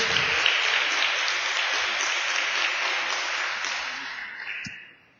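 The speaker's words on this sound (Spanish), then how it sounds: "Dale un gran aplauso al Señor." Church congregation applauding for the Lord during a Spanish-language sermon on 1 Corinthians, a steady wash of many hands clapping that holds evenly and then fades out at the end.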